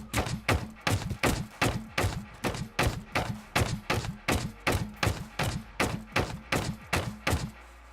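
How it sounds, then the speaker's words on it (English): Rocket artillery rounds in Scrap Mechanic go off in a rapid, evenly spaced string of deep thumping blasts, roughly three per second, each punchy and loud with a short decay, continuing without pause. "more explosions keep going off"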